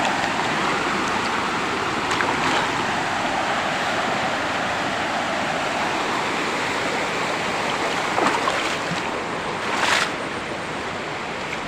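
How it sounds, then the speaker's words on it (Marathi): A swollen river runs high after heavy water, a steady broadband rush of flowing current that continues evenly throughout with no voices. "पाणी येतं बघा नदी खूप आता पाणी आज खूप आहे नदीला"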